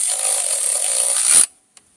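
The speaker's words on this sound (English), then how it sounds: "Screwing them on one by one." A power tool drives bolts during a Mazda Skyactiv transmission fluid service, a loud, close, high-pitched whirring that runs steadily, stops abruptly, and is followed by a single sharp click.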